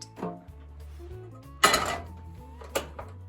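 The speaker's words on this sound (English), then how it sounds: "And then I'm going to take it back to the stove eye and turn it back on that medium-low heat." A cast iron skillet is set back down on a stove eye with a heavy metallic clunk, followed about a second later by a second lighter knock, both close over a low steady hum.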